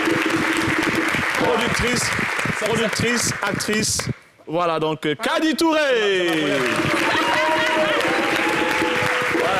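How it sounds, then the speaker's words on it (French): An audience at a local TV show applauds loudly in a dense, sustained wash of clapping, interrupted by a brief pause, with a presenter speaking over it. "Je voudrais qu'on applaudisse bien fort."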